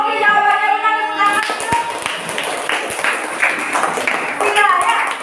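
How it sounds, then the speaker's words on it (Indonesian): Schoolchildren in a classroom clap together in a dense, loud round of applause after a voice speaks briefly at the start, the clapping continuing steadily to the end. "Oke, tepuk tangan lagi sekalian anak."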